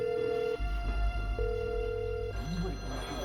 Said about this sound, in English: The phone is answered by one of the guards held hostage.